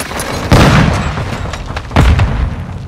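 Cruise missile strikes in Call of Duty Modern Warfare II multiplayer: two heavy booming blasts about a second and a half apart, loud and close, over a rumbling battlefield din.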